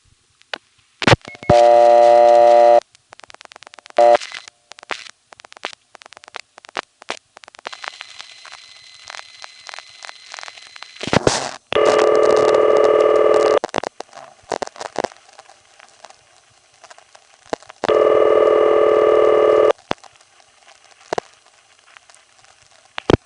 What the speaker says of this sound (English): On this call, all 5 revertive digits between here and Trattman Avenue were heard all at once.